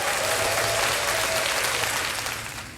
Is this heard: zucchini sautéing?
no